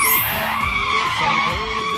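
A car skids under hard braking, tires squealing loudly across a continuous, sliding screech that lasts the full two seconds with no talk over it.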